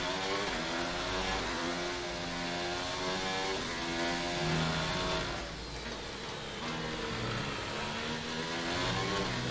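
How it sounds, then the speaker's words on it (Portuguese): Damaged Formula 1 car engine in the F1 2019 racing game, with a steady harsh mechanical drone scraping and knocking while off throttle, loud and continuous throughout. "Quando eu solto o motor, o acelerador, parece que um monte de rosca, de biela, raspando, batendo."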